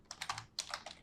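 A computer keyboard is typed on in two quick bursts of crisp key clicks with a brief pause between them, close and fairly quiet.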